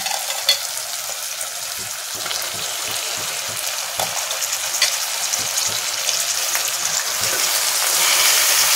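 Country chicken (natu kodi) cooking in a soft tomato curry without a pressure cooker, a steady loud frying sizzle and bubbling that holds continuously close by and swells slightly toward the end, with no speech.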